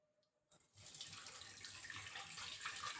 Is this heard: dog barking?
no